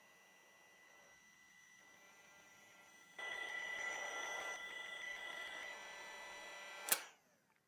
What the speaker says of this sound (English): So let's heat shrink it.